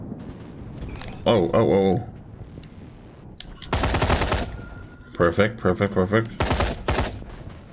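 Rifle fire in the PS5 shooter Quantum Error comes in several rapid bursts of close, sharp shots, separated by short pauses, with someone briefly speaking between them.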